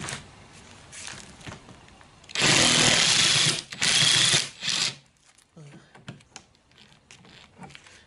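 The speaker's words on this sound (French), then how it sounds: "l'écrou étant dans un état lamentable, je ne sais pas s'il va se dévisser." A badly rusted nut on an old Citroën Traction 11/15 steering rack is worked loose. A loud, harsh grinding burst is followed by a second burst and then lighter scraping and rattling close up.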